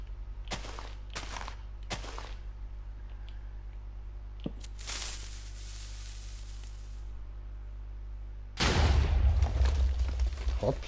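Blasting in Minecraft: a few scattered footstep-like taps and scrapes, then a loud, close explosion bursts near the end and rumbles on.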